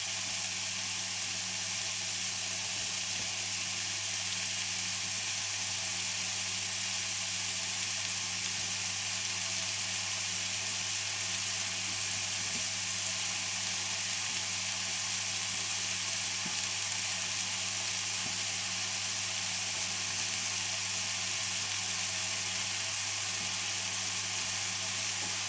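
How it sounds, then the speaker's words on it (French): Lardons and onions frying in a pan for tartiflette give a steady, even sizzle that carries on without a break, close and moderately loud, with no voices. "pendant que mes lardons et mes oignons cuisent"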